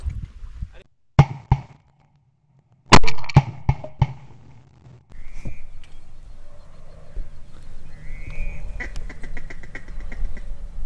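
A flock of ducks with drakes, heard during a duck hunt on North Dakota public land near a pond, quacking in scattered bursts, some loud and close, others softer, with bits of outdoor noise and a few voices in between.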